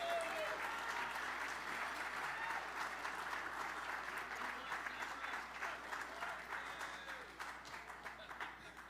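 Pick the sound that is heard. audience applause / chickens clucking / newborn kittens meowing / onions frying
audience applause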